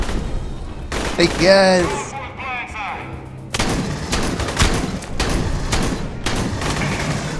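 Shotgun blasts in the video game Aliens: Colonial Marines, several loud, spaced booms following a brief excited shout from a player, with game noise and some talk around them.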